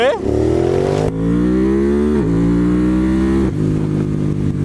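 A 2023 Ducati Monster motorcycle engine revs hard through several rising pulls, each climbing in pitch before dropping briefly and surging again, loud and close.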